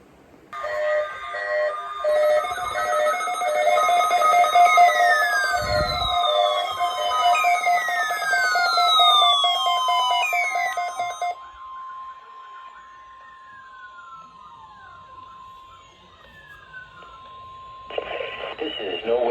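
Weekly test alert tones broadcast on NOAA Weather Radio for the EAS required weekly test: loud data bursts and steady, gliding tones in long sequences, then a long single held tone, with a short burst at the end.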